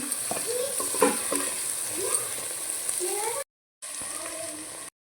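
Potato pieces fry in a pan with a continuous close sizzle and stirring clatter while someone talks over it, and the sound briefly cuts out before resuming.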